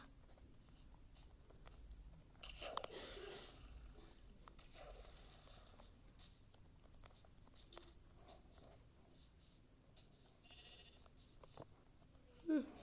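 Faint sheep bleats from the Minecraft video game, where the player has morphed into a sheep, come through quietly over low background noise, with a few soft clicks and a brief louder sound near the end.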